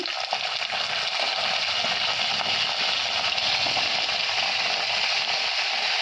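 Brinjal pieces fry in plenty of hot oil with curry leaves, giving a steady, dense sizzle that holds even and loud throughout with no talking.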